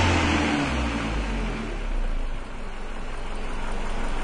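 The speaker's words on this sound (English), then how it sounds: "Listen to that idle change." A 2000 Ford Escort engine idles roughly, its pitch and steadiness shifting as the idle dips nearly to stalling and then recovers, close by with no talking.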